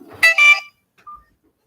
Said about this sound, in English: Just wait for this unknown harassment phone ringing to stop.